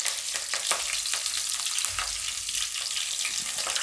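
Green chillies, a couple of them red, sizzling in hot oil for a Gujarati moong dal and spinach dish, with a steady crackling fry and a few sharp pops and stirring scrapes, close and fairly loud.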